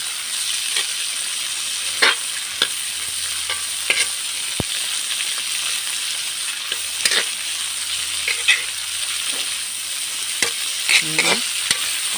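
Kangkong (water spinach) sautéed in a pan for a home-cooked dish, a steady close sizzle with periodic scraping stir strokes and clatter throughout, no voices.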